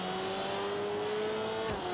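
Engine revving hard as a car launches in a Forza Horizon 2 drag race, a steady high-pitched drone that rises slightly, with a brief low thump near the end and no talking.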